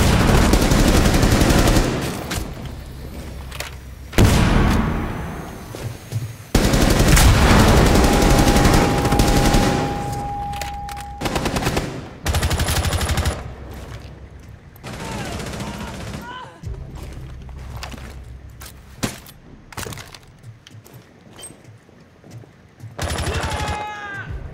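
Rapid automatic gunfire rattles in Rainbow Six Siege during a Hereford Base hostage team deathmatch, loud bursts and sustained fusillades broken by short pauses, with a voice talking over parts of the action.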